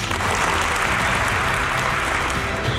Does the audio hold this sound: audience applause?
yes